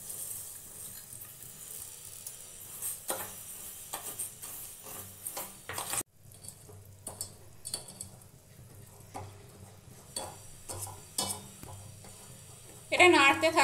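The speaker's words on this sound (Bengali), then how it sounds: "এটা নাড়তে থাকতে হবে যতক্ষণ এটা ব্রাউন কালারের না হয়ে যাচ্ছে।" A spoon stirs sugar in a pan as it cooks into caramel, giving soft scraping and light clinks with a faint sizzle, a sharp break midway and a louder clatter at the end.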